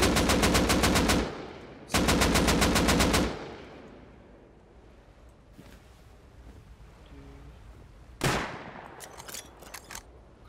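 Automatic gunfire in the survival game Rust rattles in two long, loud bursts, then fades into quieter ambience before a third shorter burst and a few scattered shots near the end.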